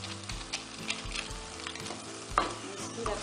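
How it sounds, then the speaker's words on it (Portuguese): Bell peppers are sautéed in a pan for Greek-style rice, giving a soft, continuous sizzle broken by spoon scrapes and small knocks against the pan, with no talking. "Vou refogar um pouquinho os pimentões."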